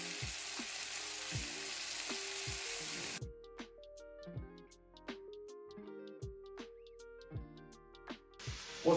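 Chicken and champignon mushrooms fry with curry spices, a bright, close sizzle that stops after a few seconds, gives way to a melodic tune, then bursts back in at the very end.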